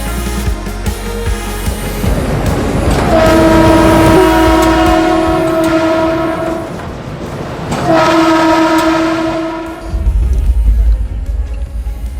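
A train runs on rails in Uttar Pradesh, India, with a loud, close rumble and rattle under two long horn blasts.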